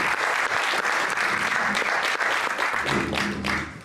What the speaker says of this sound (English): how about a round of applause for these folks?